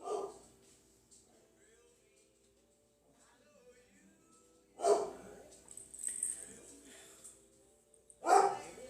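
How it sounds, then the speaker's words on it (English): A dog barks at night in short bursts: one at the start, then two louder clusters later, with quiet stretches between them. "What are you barking at?"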